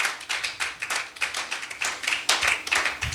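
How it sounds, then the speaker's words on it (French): A church congregation applauding, a moderately distant burst of irregular hand claps that pulses through the clip with no clear talking. "Nous pouvons bénir leur vie avec nos acclamations."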